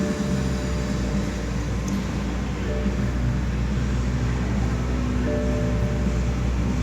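A 2020 Toyota Supra engine runs at idle, giving a steady, close, full-bodied low rumble that holds even from start to finish with no talking.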